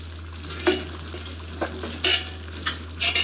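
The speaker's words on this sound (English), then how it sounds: "So let's give it a stir." A spoon scrapes and stirs thick eggplant curry in a pot, giving a few irregular clanks and scrapes over a steady low kitchen hum, with no voices.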